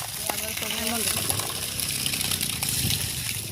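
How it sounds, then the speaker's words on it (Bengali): Tap water gushes steadily while ripe mangoes are washed outdoors in a village, the running stream continuous and fairly close, with voices talking over it. "এই কলের জল দিয়ে আমগুলো ধুয়ে নিলাম।"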